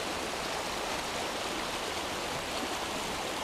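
A river flowing beside a monk seated on its bank on a rainy day, a steady broadband rush of water with no breaks, moderately loud and unchanging throughout.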